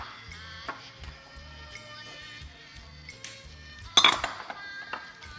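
Metal utensils clink and scrape against a bowl as Khmer egg roll filling is stirred, with quiet rhythmic knocks and one sharp louder clatter, set under faint background music.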